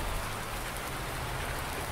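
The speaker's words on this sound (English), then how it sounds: "while it's raining out like it is" Steady rain pours down in the farming game Farming Simulator 19, a dense, even hiss that stays close and constant throughout, with no voices over it.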